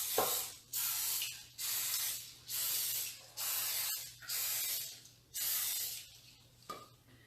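Cooking spray is sprayed into a shallow Wilton muffin-top baking pan in eight short, even hissing bursts with brief pauses between them, close and clear over a faint hum.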